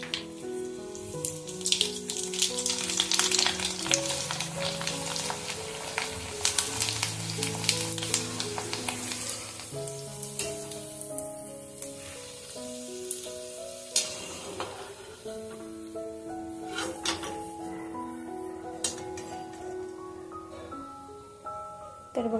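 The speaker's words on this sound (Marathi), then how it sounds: "हे कुरड्या पण तुम्हाला तळून दाखवते" Cumin-flavoured kurdya rice wafers frying in hot oil at home, a continuous bubbling sizzle heard under loud melodic music with tonal notes running throughout.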